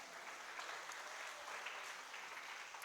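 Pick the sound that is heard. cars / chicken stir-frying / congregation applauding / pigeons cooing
congregation applauding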